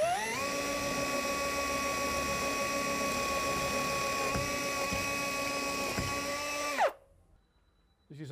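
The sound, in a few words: drill boring a 10 mm hole without hammer function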